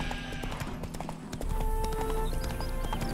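Roach, the horse in The Witcher 3, clip-clops along with a steady run of close hoofbeats over game background music, with no talk.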